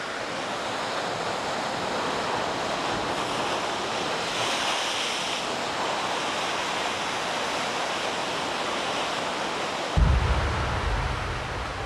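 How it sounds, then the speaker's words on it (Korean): Rough ocean waves pounding the Christmas Island coast, a loud, continuous roar of surf with wind buffeting throughout and a heavier rumble of crashing water toward the end. "마을의 반대편 해안은 늘 거센 파도에 크게 술렁입니다"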